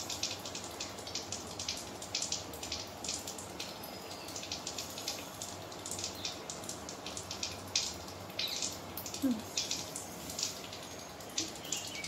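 Water pours into a bowl in a continuous splashing, trickling stream, close and moderately quiet, with small irregular drips and splashes throughout.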